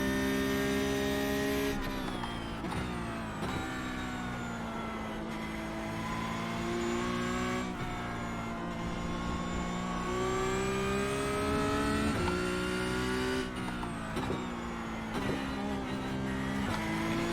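Porsche Cup race car engine in the iRacing sim at Spa, revving hard through the gears with repeated upshifts and lifts, a loud continuous buzzing howl throughout.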